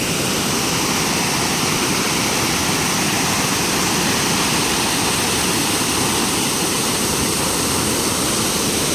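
Steady, dense roar of a waterfall heard up close, a continuous broadband rush of falling water with no pauses, filling the whole scene without any voices.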